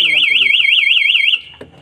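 A fire alarm in an installation test wails with a loud, fast warbling siren tone. It rings for about a second and a half, then cuts off abruptly. A voice talks underneath while it sounds.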